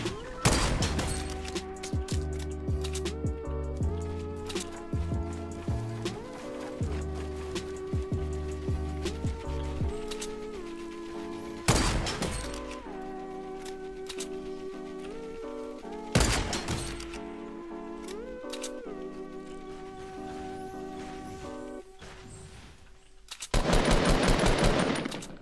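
Rapid bursts of automatic gunfire from the video game Fortnite rattle on and off in long runs, with sharper isolated shots breaking through and a dense volley near the end.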